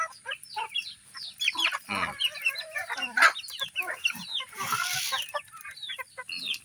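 A flock of backyard chickens with a mother hen clucks and chatters close by, overlapping busy calls and squawks running continuously at moderate loudness.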